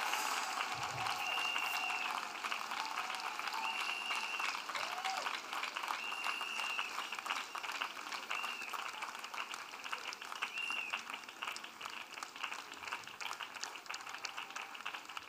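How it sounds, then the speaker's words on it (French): A church congregation claps steadily through the whole stretch, a dense, continuous applause rising around a preaching service while music or voices sit faintly beneath. "When you want to clap for the deliverance of souls,"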